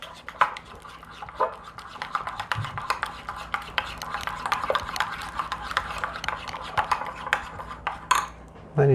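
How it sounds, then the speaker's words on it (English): Beef ramen ingredients being mixed with a utensil in a pot, giving steady rubbing scrapes and frequent sharp metallic clinks at close range. "Mix it up, mix it up"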